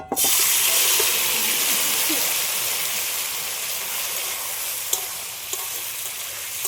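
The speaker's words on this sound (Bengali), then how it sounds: "কড়ার মধ্যে অল্প করে তেল দিয়েছি তেলটা গরম হয়ে গেছে এর মধ্যে দিয়ে দিচ্ছি" Spiced cauliflower dropped into hot oil in a wok, an immediate loud burst of sizzling that settles into a steady frying hiss with a few sharp spoon taps.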